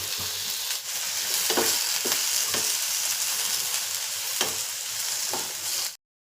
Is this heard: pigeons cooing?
no